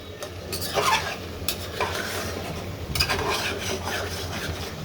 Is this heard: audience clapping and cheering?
no